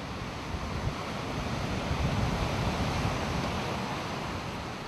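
Surf rolls and breaks steadily at Gunnamatta Beach, a loud, continuous ocean roar with wind gusting across the microphone and no voices.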